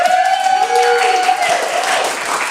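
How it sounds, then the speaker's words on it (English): Dense applause from an audience at a design awards ceremony fills the clip, steady clapping with a sustained high tone and some crowd noise mixed in. "So I think you deserve a round of applause"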